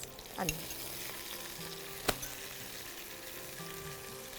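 Chopped ginger sizzles gently in hot oil in a pan while shrimp bhuna is being cooked, a soft, steady frying hiss with a few light stirring scrapes and one sharp clink partway through.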